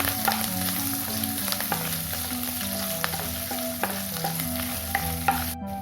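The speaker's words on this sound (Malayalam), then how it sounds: "ഇത്ര ഇട്ടതിന് ശേഷം ഇതൊന്ന് ഇളക്കി കൊടുക്കുക." Green chilli and curry leaves sizzle in oil in a pan as they are stirred, with a continuous frying hiss broken by scattered crackles and spoon scrapes, close and without speech.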